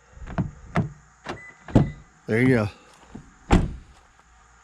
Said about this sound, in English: And then I've got it set to where it unlocks all the doors.